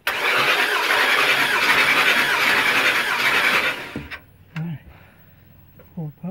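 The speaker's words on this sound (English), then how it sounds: "Crank the engine over and it says you want 4 puffs." An 8.1 Vortec engine on a W24 Workhorse chassis cranks steadily on the starter during a compression test, a loud continuous whir that cuts off abruptly, followed by quieter clicks and a few brief spoken words.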